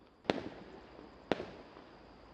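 Fireworks during a Hari Raya celebration in Selangor, three sharp, distant bangs spaced about a second apart, each with a short crackling tail over quiet background.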